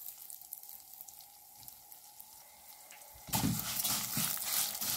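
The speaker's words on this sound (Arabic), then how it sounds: "احمر بقى الاول الشعريه اهو" Vermicelli frying in a pan for rice hisses quietly, then bursts into a much louder, broad crackling sizzle midway that stays strong to the end.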